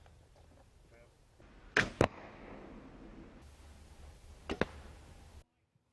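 A barebow archer looses arrows in an outdoor practice session, each release a sharp, loud snap of string and thwack, two in quick succession followed by another a few seconds later, over faint background.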